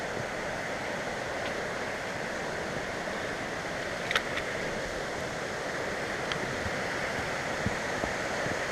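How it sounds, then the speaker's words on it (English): Great Conglomerate Falls roars as a steady, broad rush of falling water, a constant hiss with no breaks, heard from a short distance along a hiking trail, with a few faint ticks over the noise. "Right there, I see a waterfall."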